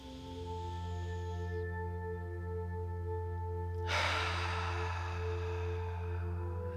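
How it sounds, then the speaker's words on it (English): A single deep breath drawn in, heard as a soft rush of air that swells about midway and then holds, over a steady humming drone. "I want you to take a deep breath in right now."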